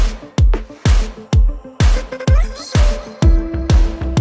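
Kick and snare drums playing back together in a mix, with regular strong low thumps and bright snare cracks in a steady rhythm, loud and close with no talking.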